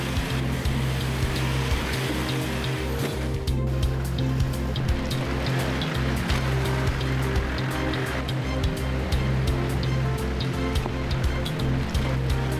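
A Toyota Troopy 4WD grinds up tidal rocks through falling seawater; a low, steady engine drone runs under continuous rushing, splashing water for the whole stretch.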